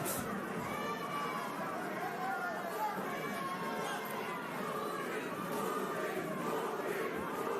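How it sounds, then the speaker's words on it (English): Boxing arena crowd at a professional fight, a broad steady roar of many voices with chanting blended in, loud and continuous throughout with no clear break. "The crowd getting a chant of Purin going for Caraballo"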